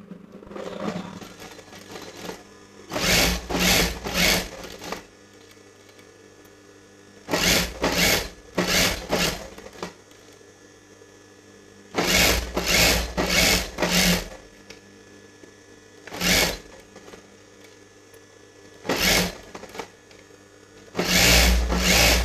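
A sewing machine runs stitches along the canvas edge of an Indian dress front neck in repeated short bursts of rapid mechanical clatter, loud and close, separated by brief pauses.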